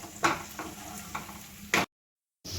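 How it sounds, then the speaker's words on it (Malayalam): Garlic and ginger sauté in a pan for a Kerala-style chicken curry, a soft close sizzle with a few scraping stirs, then a brief silence before the sizzling resumes. "നമുക്കെല്ലാം കൂടെ ഒന്ന് വഴച്ചെടുക്കാം വെളുത്തുള്ളി ഇഞ്ചിയൊക്കെ ഒന്ന് സെറ്റായിട്ട് വരട്ടെ"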